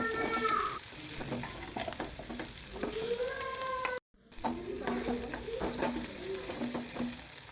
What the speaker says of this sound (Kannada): ಸಾಸಿವೆ ಮತ್ತು ಕೊತ್ತಂಬರಿ, ಈರುಳ್ಳಿ, ಮೆಣಸಿನ್ಕಾಯಿ ಇವನ್ನೆಲ್ಲ ಹಾಕಿ ಒಂದು ಸ್ವಲ್ಪ ಚೆನ್ನಾಗಿ ಫ್ರೈ ಮಾಡ್ಕೋಬೇಕು ಎಣ್ಣೆಯಲ್ಲಿ